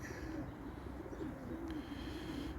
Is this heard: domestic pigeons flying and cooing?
yes